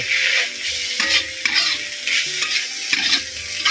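Cassava leaves stir-fried in a pan, with a steady sizzle and repeated scraping strokes of a utensil at a close, even rhythm, and no talking.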